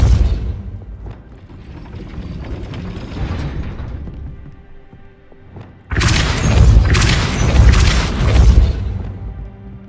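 Depulso spell boom in the Hogwarts Legacy video game, with deep rumbling booms and a loud, sustained blast surging in partway through, no talking.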